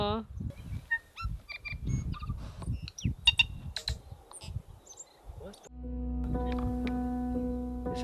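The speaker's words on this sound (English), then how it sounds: "The birds here are crazy. Yeah, it sounds like Star Wars." Wild birds in New Zealand give strange, robotic-sounding chirps, honks and whistles in quick, scattered bursts at moderate distance, with some talking mixed in, before a steady low hum takes over near the end.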